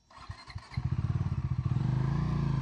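A Bajaj Dominar 350 motorcycle starts moving with a few thumps, then its engine settles into a close, rhythmic pulsing beat that grows louder and steadier as it rides off along a rough road.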